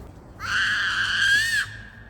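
A young girl screams outdoors in one long, loud, sustained high-pitched cry of about a second, with quieter street ambience before and after.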